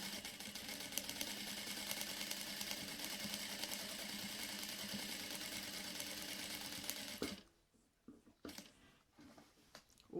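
A sewing machine runs steadily, stitching a curved seam with a fine short stitch on a cat-shaped fabric door stop, loud and continuous for about seven seconds before stopping abruptly, leaving faint handling clicks.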